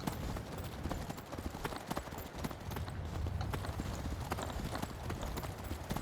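A horse's hooves clip-clop steadily on rough ground in the game Skyrim as the horse climbs, a rapid uneven rhythm of close, fairly soft hoof strikes with faint ambient noise.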